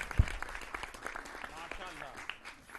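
Audience applause at a comic Urdu poetry mushaira for Eid ul Fitr, a moderate steady patter of clapping after a poet is invited to the stage, with a voice talking over it.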